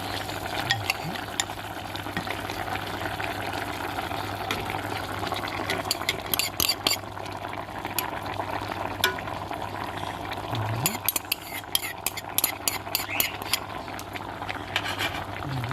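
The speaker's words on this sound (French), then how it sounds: "là je vais rajouter le persil avec l'œuf battu que j'ai salé. Je vais les mettre à l'intérieur de ma marmite." Parsley and salted beaten egg go into a cooking pot over a steady simmering sizzle, with scattered scraping and clinking from stirring through most of the stretch.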